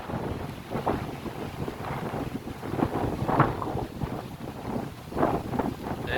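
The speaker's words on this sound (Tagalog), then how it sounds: "Lakas ng hangin talaga guys" Strong wind at sea roars and buffets the microphone in gusty surges around a small boat, with water sloshing beneath and no clear talk.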